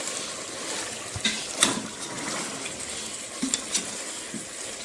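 Half a kilo of chopped tomatoes frying in a village-style chicken karahi, a soft continuous sizzle and bubbling with a few scattered clinks and stirs, quiet and close.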